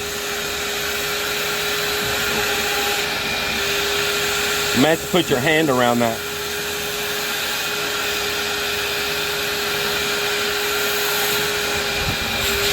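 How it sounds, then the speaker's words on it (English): A vacuum cleaner drones steadily throughout at close range in a beach house under construction in the Philippines, and a person speaks briefly over its continuous hum partway through. "So I'm going to use the vacuum cleaner."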